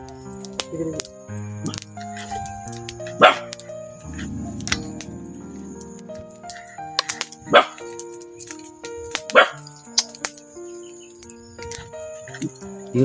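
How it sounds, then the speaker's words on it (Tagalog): A dog on a mountain gives a few sharp, separate barks spaced several seconds apart, standing out over a steady tonal background with faint chirps. "Yun pa yung aso mga idol, oh."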